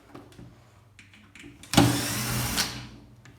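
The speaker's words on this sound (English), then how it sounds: "First, remove the two screws on the back of the lid." A power driver backs out a screw from the rear of a Simpson washing machine lid, giving one close whirring burst of about a second after some faint handling clicks.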